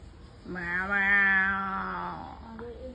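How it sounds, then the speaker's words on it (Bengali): A large cat lets out one long, drawn-out meow close by, rising then slowly falling over about two seconds, followed by a faint short sound; no one speaks. "ভাই তো বড় সড়ো বিড়ালটা"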